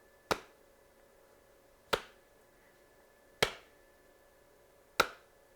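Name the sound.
hand clap used to sync video recording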